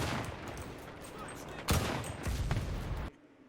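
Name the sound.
gunfire and headshot hit sounds in a Battlefield video game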